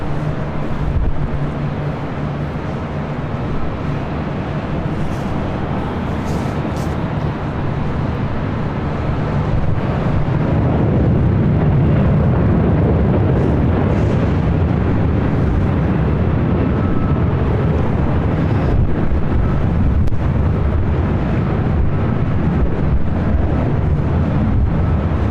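A JetBlue jet rolls for takeoff on runway 24 left at LAX, a loud, steady roaring rumble that swells and stays broad and heavy throughout, with wind buffeting the microphone.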